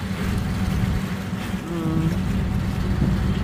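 A boat's engine drones steadily near Lecco, Italy as the boat comes into town, a loud continuous motor hum with wind and water noise, close up and unbroken.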